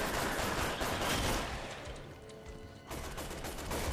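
Dense, steady gunfire from Resident Evil 6 co-op play, loud bursts that dip briefly mid-way and then return at full force, with no voices.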